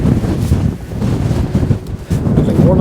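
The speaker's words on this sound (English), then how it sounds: "one of the main things for today is probably being buffeted by the wind" Strong wind buffeting a microphone on a mountain hike up Glaramara in the Lake District: loud, continuous low roaring and rumbling gusts with no pauses and no talking.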